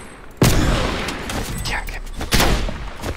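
Gunfire from Call of Duty Black Ops Cold War in a sniper-only team deathmatch on the Armada Strike map: two loud, sharp shots about two seconds apart, each with a decaying tail over a busy game background.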